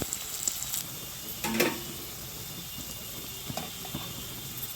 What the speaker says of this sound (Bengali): আলুগুলো প্রথমে ভালো করে ভেজে নেওয়া হবে